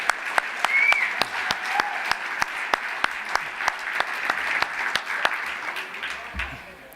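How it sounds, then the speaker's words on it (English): Audience applause at an awards gala for the furniture industry, a steady dense wash of many hands clapping for several seconds, with a few sharper nearby claps standing out and a faint voice underneath. "So please just give yourselves a round of applause."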